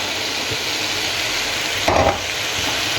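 Cabbage stewing with pepper paste and adjika sizzles steadily in a pan, a continuous close frying hiss with a brief louder scrape and splash of stirring partway through.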